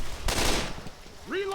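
Gunfire from a weapon in the video game Left 4 Dead 2: a short, loud burst of rapid shots, followed by a rising electronic tone.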